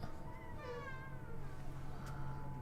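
A house cat meows in a drawn-out, wavering call near a man working on a radio antenna project, with the sound moderately close over steady low background noise.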